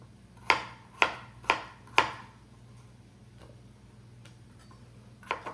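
A knife dices gold potatoes on a cutting board, four crisp evenly spaced chops close up, followed by a pause and a fainter tap or two near the end, with no talking.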